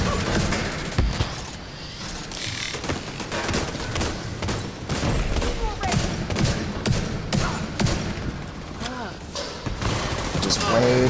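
Turret gunfire in The Division 2, rapid bursts of shots and booms in a busy, continuous firefight with a voice talking over it.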